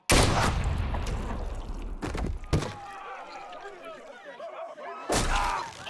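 Gunshots in The Walking Dead video game, a loud blast at the start, two sharp shots around the two-second mark and another near the end, with voices and shouting underneath between them.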